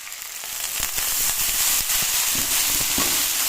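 Fresh fenugreek greens and green chilies hit hot oil in a pan and sizzle loudly and steadily, with crackling pops and a stirring sound, up close with no voices.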